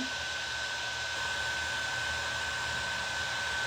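A hair dryer blows a steady, close whooshing hum while drying decoupage on thrifted decor, constant throughout with no talking.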